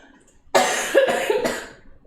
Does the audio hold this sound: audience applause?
no